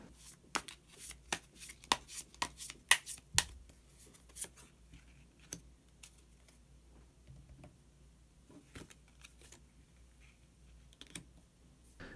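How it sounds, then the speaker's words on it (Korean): Tarot cards are shuffled and drawn, making a quiet run of sharp, quick card snaps and taps that thin out into a few scattered flicks. "마지막으로 히든 카드 한 장 더 뽑아보도록 하겠습니다"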